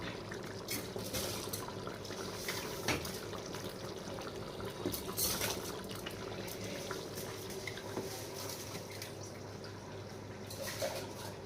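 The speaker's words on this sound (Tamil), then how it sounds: "மூணு டம்ளர் தண்ணி தான் ஊற்றுறேன்" Water pours steadily into a cooking pot of rice for biryani, a continuous splashing gush with small gurgles and drips throughout.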